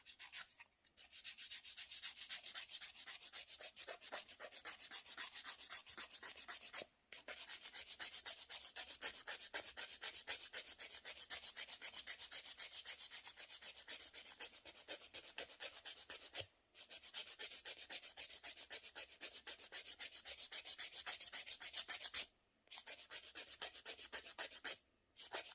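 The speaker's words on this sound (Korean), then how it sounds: "여기를 좀 더 갈 때 파일을 눕혀서 갈고, 여기 할 땐 좀 세워서 갈고" A nail file shapes fingernails close up, giving a steady, fast rhythmic rasping of back-and-forth strokes that runs continuously with a few brief pauses.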